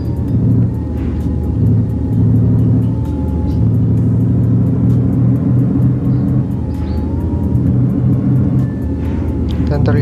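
Steady, loud engine and road rumble from a Mitsubishi Fuso tarp-bed truck running fast on the Surabaya–Malang toll road, droning continuously throughout with a few faint higher whines.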